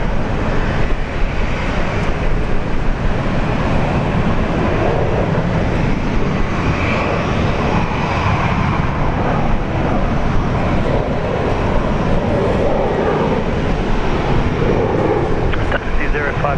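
An Airbus A350 airliner's engines roar loud and steady at Brisbane Airport, a broad continuous rumble, with people talking over it.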